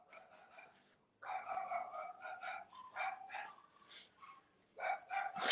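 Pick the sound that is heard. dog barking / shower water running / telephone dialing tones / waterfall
dog barking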